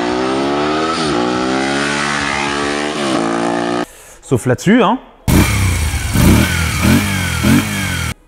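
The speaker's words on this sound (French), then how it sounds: "En V, ça donne généralement une moto assez fine, avec une sonorité plutôt sympa." A V-twin motorcycle engine revs loudly and close, rising and falling in pitch, with a brief cut to speech before the revving resumes.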